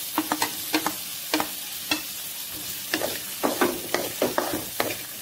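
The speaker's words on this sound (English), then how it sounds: "I'm just stirring it a little" Chopped onions and green chili sizzling in a pan for a Malaysian-style vegetable kurma, with a steady fry under repeated scraping strokes of a spoon stirring the pan, close and clear with no talk.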